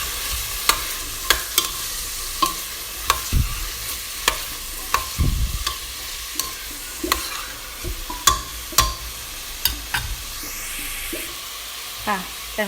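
Carrot and celery frying in a pot for a braised beef Genovese, with a low sizzle beneath repeated clinks and scrapes of a spoon stirring at an uneven pace, close up; a voice speaks briefly.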